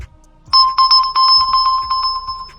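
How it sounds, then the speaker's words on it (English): A smartphone rings after being pinged from an Oppo Watch 46mm, a loud repeating electronic ringtone of rapid bright pulses starting half a second in and continuing steadily, with low background noise beneath. "I just pinged my phone"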